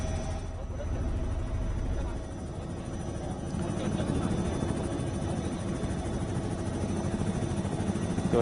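Helicopter showering flower petals over a Nationalist Congress Party gathering in Maharashtra, heard as a steady low rotor and engine rumble blended with crowd noise throughout.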